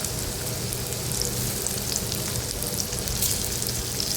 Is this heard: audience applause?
no